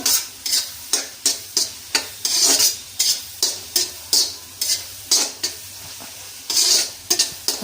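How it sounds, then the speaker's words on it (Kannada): Ginger and garlic frying in a pan, a steady sizzle broken by a regular run of brisk scraping stirs, about two per second, close and clear with no voices. "ಜಿಂಜರ್ ಗಾರ್ಲಿಕ್ಕು ಸ್ವಲ್ಪ ಹಸಿ ವಾಸನೆ ಹೋಗೋವರೆಗೂ ಹುರ್ಕೊಳ್ತಾ ಇದ್ದೀನಿ"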